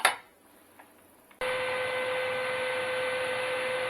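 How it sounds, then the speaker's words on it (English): After a brief click and near silence, a preheated air fryer switches on into a steady whirring hum with a constant high whine, running evenly to the end. "The air fryer is preheated. You can hear it running."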